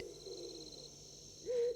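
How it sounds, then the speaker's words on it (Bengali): A single owl hoot sounds in the distance on a dark night, briefly rising near the end of the clip over a faint, steady backdrop of night insects. "মাঝে মাঝে দূর থেকে প্যাঁচার ডাক শোনা যাচ্ছে।"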